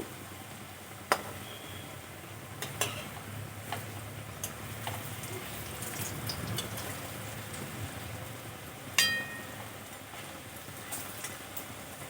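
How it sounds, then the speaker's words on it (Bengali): Vegetarian mock fish pieces fry in a pan with a steady, quiet sizzle and crackle, broken by a few sharp clicks and taps. "এই সাইডটাও ভালো করে লাল করে ভেজে নেব"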